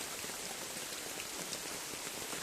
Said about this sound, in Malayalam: മഴയാണെങ്കിൽ നല്ല മഴയാണ്, ശക്തമായ മഴയാണ്.